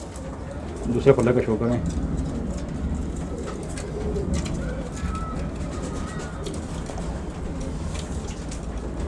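Pigeons coo softly and steadily nearby under a voice, with a continuous low ambient rumble behind the birds.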